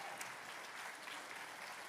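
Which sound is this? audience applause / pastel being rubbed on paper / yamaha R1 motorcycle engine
audience applause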